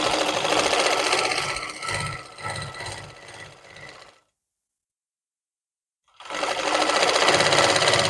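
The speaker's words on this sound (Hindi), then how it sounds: "इसके बाद हम इसकी सीधी सिलाई लगाएंगे।" A sewing machine runs a straight seam on a palazzo pocket, a close rapid mechanical whir that stops for about two seconds of silence and then starts up again.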